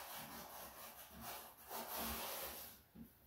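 A metal object is dragged slowly along drywall in a quiet room, giving faint, soft scraping rubs in short uneven strokes.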